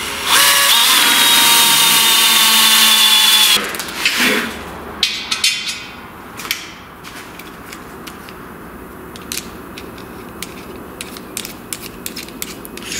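A loud, high-pitched power drill whines for a few seconds, then stops, followed by scattered clicks, clatters and rattling of metal parts nearby.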